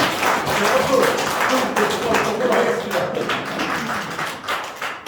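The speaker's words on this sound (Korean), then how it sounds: "이럴 때는 박수 치야 됩니다" Lecture-hall audience breaking into sustained applause, a dense, even rattle of many hands clapping fairly close, with a voice faintly present beneath it.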